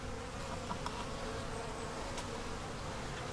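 Honey bees buzzing around a hive, a steady faint drone of many wings with a few brief louder passes close by, no voices.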